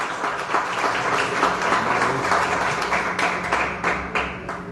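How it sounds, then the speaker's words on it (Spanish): Audience at an academic talk applauds to welcome a guest speaker, a full round of steady clapping from a roomful of people that holds throughout, with a few sharper individual claps near the end. "hoy les pido un fuerte aplauso"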